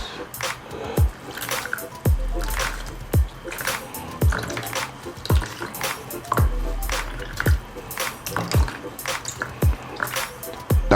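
Coconut milk squeezed by hand from freshly grated coconut drips and splashes into a container in a steady, uneven series of wet drops and squishes, close and fairly loud, with no talking.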